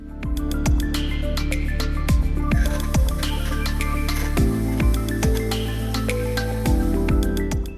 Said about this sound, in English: If you can get yourself one of these, they are a game changer and will save you some elbow grease.